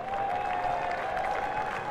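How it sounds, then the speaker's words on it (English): Sustained applause from a tennis crowd in Chennai after a seeded player's match win, a dense steady wash of clapping that fills the whole stretch with no voices on top. "Taking the applause of the crowd"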